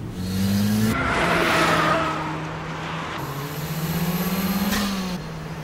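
A car engine in the Wangan Midnight racing video game revs up and accelerates with a rising, steady drone, easing off briefly and then climbing again, loud and continuous with a faint tire squeal and no talk.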